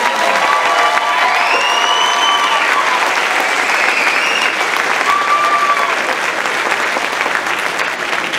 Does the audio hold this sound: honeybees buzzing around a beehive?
no